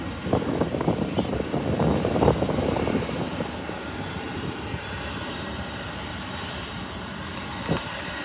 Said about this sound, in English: Probably they're waiting for the planes to take off.